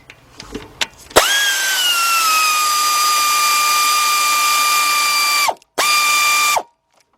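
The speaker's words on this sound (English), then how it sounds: "got my 8mm deep 3/8 drive, 4-inch 3/8 drive extension, and an air ratchet" A loud, close air ratchet driving an 8mm deep 3/8-drive socket on a 4-inch extension during lower intake manifold gasket work on a 2004 Chevy Monte Carlo 3.4, with a long steady whir, a brief stop, then another burst.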